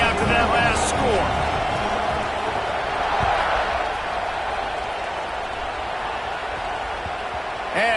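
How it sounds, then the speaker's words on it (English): A football stadium crowd keeps up a steady, dense roar after a score, with scattered cheers and shouts rising and falling over the continuous noise and faint speech underneath. "this crowd is buzzing after that last score"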